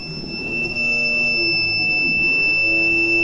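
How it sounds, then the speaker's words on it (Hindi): A homemade generator built from two DC motors whirs steadily while a connected buzzer sounds a constant high-pitched tone over it, loud and close throughout. "जैसे ही मैं इस मोटर को ऐसे रोकूंगा तो भाई बजर भी हो, ठीक है, छोड़ते हुए ऑन हो गया"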